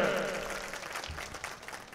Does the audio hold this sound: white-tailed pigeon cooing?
no